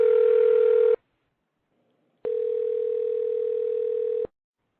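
A telephone line hums with a steady, loud dial tone while a call is placed back, sounding for about a second, cutting out, then returning for two more seconds before stopping.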